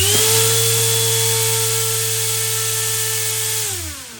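RC brushless motor driving an 11.5-inch four-bladed 3D printed folding propeller, a loud steady whine held at constant pitch, then spinning down near the end.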